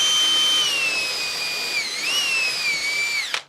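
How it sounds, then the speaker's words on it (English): A drill steadily whines through an aluminum adapter while step drilling out a broken golf shaft, a loud close sustained tone with a slight pitch dip before it cuts off abruptly. "now we have to step drill it out"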